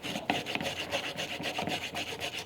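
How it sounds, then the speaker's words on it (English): A brush scrubs the barrel of a Sig P322 .22 pistol with a quiet, rhythmic back-and-forth rasping in short, evenly spaced strokes close by. "I'm gonna scrub it."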